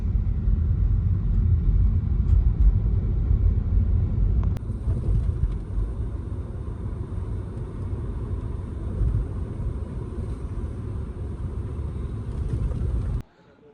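A car drives along a road in Saudi Arabia, its engine and road noise a steady low rumble from inside the vehicle, easing slightly midway and cutting off abruptly at the end.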